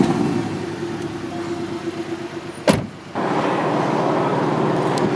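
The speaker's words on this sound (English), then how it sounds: "Alright, so I'm going to go on a little drive." A car engine idles steadily at close range and fairly loudly, with a brief sharp clunk or door-like sound partway through before the low running resumes.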